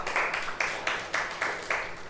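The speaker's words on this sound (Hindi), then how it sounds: "इसके लिए जोरदार ताली बजाई जाए" Classroom students clap together for a classmate in a quick rhythmic burst, several sharp beats in a row, close and fairly loud.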